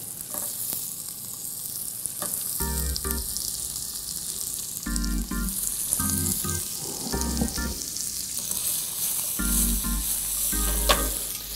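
Shrimp sizzling in a hot pan, a steady loud hiss with repeated bursts of clattering and stirring strokes, close and without talk.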